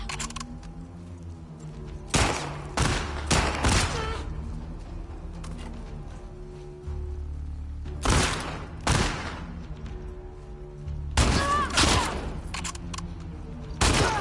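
Gunshots in The Last of Us Part 2 ring out as loud, sharp single reports and short clusters spread across the stretch, over a steady low ambient rumble and faint background music.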